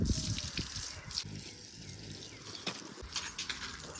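Water running and splashing while dogs are bathed outdoors in hot weather, with a steady gush punctuated by uneven drips and splatters, fairly quiet and without speech.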